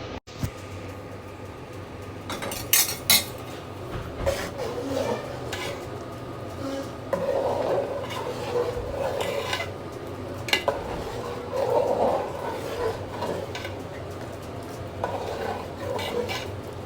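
Semai vermicelli cooked on an Eid morning is stirred in a pot with a spoon, giving repeated close scraping and clinking against the metal along with a low cooking hiss. The stirring keeps a steady rhythm throughout.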